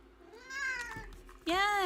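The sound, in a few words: cat meowing near the keyboard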